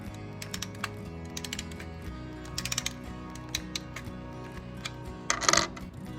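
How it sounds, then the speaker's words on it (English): An old clockwork toy is wound up with a clock key, giving close, rapid ratcheting clicks in uneven bursts, with a louder clatter of clicks near the end. "We're gonna wind this guy up and see if it still works."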